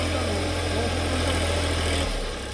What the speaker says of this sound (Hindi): राकेश टिकैत के खेत में ट्रैक्टर का सही इस्तेमाल करते ये किसान कौन है जानते हैं?